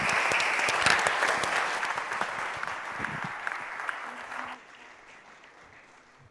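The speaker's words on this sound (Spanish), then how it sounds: "Les damos un aplauso" An audience at a financial education seminar applauds the panel with loud, dense clapping that fades out near the end, followed by quiet room tone.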